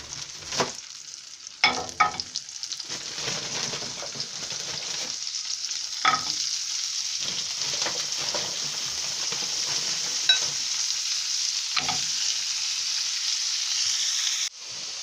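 Sausage, eggs and cauliflower sizzle in a pan under a steady, close frying hiss, with intermittent scrapes and knocks as a utensil stirs the mixture.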